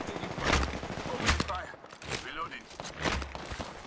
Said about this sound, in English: why is he shooting me when his teammates are in a whole different fight?